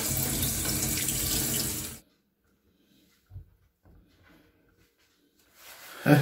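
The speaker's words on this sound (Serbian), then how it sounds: "Sad je trebamo isprati pod hladnom vodom." Tap water runs steadily for a couple of seconds, then stops. After a few quiet clinks, the flow starts again at the end.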